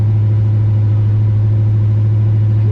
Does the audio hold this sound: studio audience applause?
no